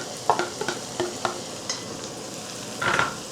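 Garlic and other ingredients stirred in a hot pan, with a few sharp scraping clicks of a utensil over a faint steady sizzle, then a louder burst of frying near the end.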